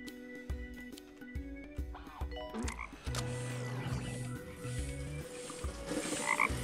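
Video game frog croaking from Two Point Hospital, a steady run of low, throaty croaks over layered in-game background music and effects, loud and continuous with no talk.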